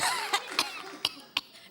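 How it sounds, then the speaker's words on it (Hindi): A person coughs four times in short, separate bursts, moderately close, with faint breathy sounds between the coughs on a stage at a comedy show. "इन्हें खांसी आ गई"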